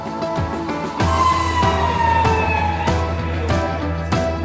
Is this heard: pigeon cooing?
no